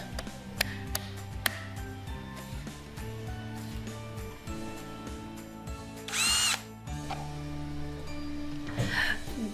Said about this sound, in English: Now adjust your power drill to the lowest torque setting, which is number 1.